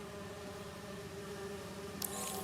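Bees buzzing in the video game Marvel's Spider-Man 2, a steady low droning hum that holds evenly throughout, with a brief brighter burst near the end.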